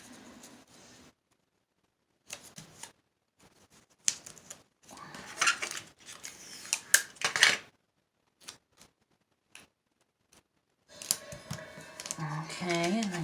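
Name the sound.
scissors snipping paper for iris folding card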